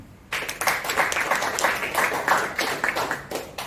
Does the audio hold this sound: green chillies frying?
no